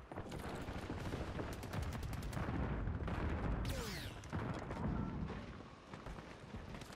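Dense gunfire and explosions from a shooter video game fill the mix, with sharp repeated shots and a whooshing sweep near the middle, loud and continuous without speech.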